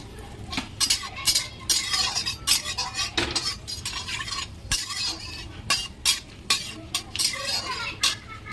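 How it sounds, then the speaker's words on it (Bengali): Dried chillies, bay leaves and whole garam masala go into hot oil with cumin in a pan for a village-style country chicken curry, giving a steady sizzle broken by repeated metal clinks and scraping stirs up close. "শুকনো লঙ্কা আর তেজপাতা, কিছু খাড়া গরম মশলা নিয়ে নিয়েছি, এগুলো দিয়ে দেবো"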